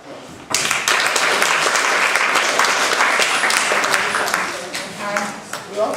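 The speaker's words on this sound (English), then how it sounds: "So please let's welcome him with a round of applause." A seminar audience at a bowel cancer talk breaks into applause welcoming a gastroenterologist, clapping starting abruptly after a short pause, holding steady, then thinning toward the end with a voice or two faintly beneath.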